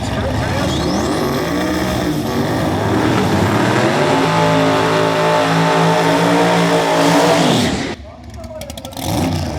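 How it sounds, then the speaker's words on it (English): No-prep drag racing between a nitrous big-block car and a twin-turbo car, including a lightweight Capri, engines roaring loud and sustained with rising revs for about eight seconds, then cutting off abruptly into quieter crowd and ambient noise. "Another nitrous big block versus twin turbo technology"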